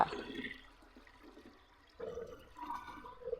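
Water pouring and splashing from a hose while watering a rooftop terrace garden, a soft gurgling flow that fades in the middle and picks up again near the end.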